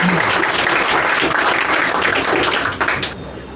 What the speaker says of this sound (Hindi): सबसे पहले तो इनके लिए जोरदार तालियां होनी चाहिए